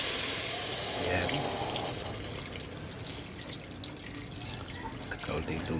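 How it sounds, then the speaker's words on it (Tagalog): Water is poured from a tap or container into a pot of sinigang with roast pork, a soft steady splashing and trickling running throughout at low volume in a kitchen. "Tapos lagyan natin ng konting tubig."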